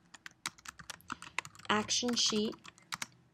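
Typing on a computer keyboard while coding an iOS app: quick, close, uneven clicks and taps, with a short stretch of talking in the middle.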